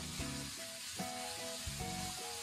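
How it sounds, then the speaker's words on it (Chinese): Mung bean sprouts sizzle in a hot wok over high heat, a steady frying hiss broken by rhythmic scraping strokes of a spatula tossing them quickly. "然后下入绿豆芽，快速的翻炒"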